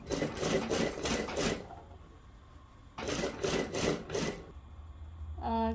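A sewing machine double-stitches a pants seam in two rapid bursts of rhythmic needle clatter, separated by a short pause, with a brief clunk at the end.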